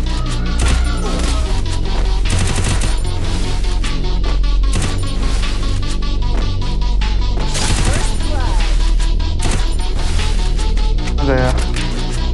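Rapid gunfire in a shooting video game, dense cracking shots in steady bursts, loud and continuous, with game sounds and someone talking over it.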